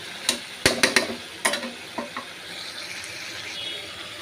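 Chicken meat being stirred and fried in a home-kitchen pan gives a handful of sharp scrapes and clatters early on, then settles into a soft, low sizzle with no talking.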